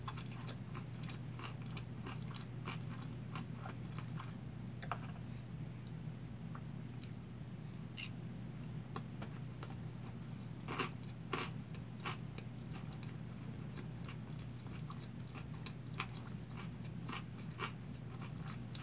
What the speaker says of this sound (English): I love that crunch from the pickled radish